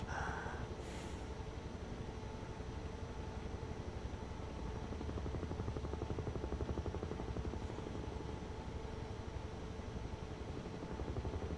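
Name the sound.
Bell UH-1 Huey helicopter flying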